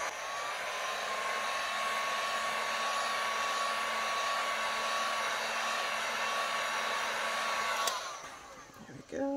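A heat gun blows hot air on the epoxy-coated bottom of a tumbler, a steady close whirring hum with a constant whine that cuts off near the end, followed by a brief clatter.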